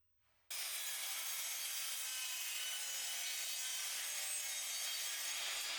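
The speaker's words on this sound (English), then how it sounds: "I cut the piece into 3 different parts with 45-degree angles." A hand saw cuts a wooden piece at 45-degree angles. The strokes form a steady, loud rasp that runs without pause after a brief quiet start.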